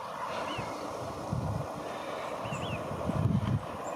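Wild ducks and at least one goose calling over a flooded winter bog at night, scattered squeaky whistles and low honking notes at a distance under steady wind noise.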